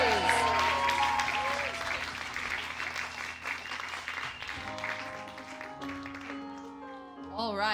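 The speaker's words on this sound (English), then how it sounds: "Give them a round of applause." Audience applause and cheering at a cabaret sing-along event, loud at first and thinning out, with voices and tonal sounds mixed in toward the end.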